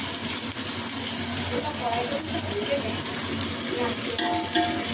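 Chopped onions frying in a pan for fried rice, a steady broadband sizzle with occasional stirring, close and continuous, with faint voices in the background.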